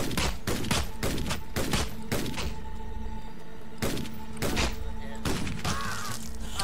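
Rapid bursts of gunfire from a two-handed smart gun in the top-down shooter Utopia 9, sharp loud shots in quick clusters with brief gaps, ending in a few separate blasts.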